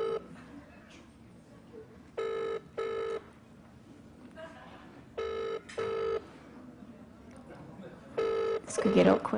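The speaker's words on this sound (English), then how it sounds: "It's ringing." Telephone ringing over a speakerphone, repeated paired electronic ring tones in a steady pattern, faint and tinny, with people talking quietly between the rings.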